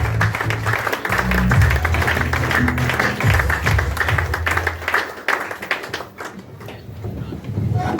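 An audience claps steadily to welcome the Consul General of Pakistan at a Christmas gathering, a dense, sustained patter that thins out toward the end, with some voices mixed in.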